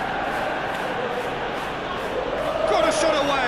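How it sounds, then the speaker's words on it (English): In a Premier League football video game, a stadium crowd roars in a broad, sustained wash that swells toward the end, with a commentator talking over it. "the crowd clearly like what they just saw"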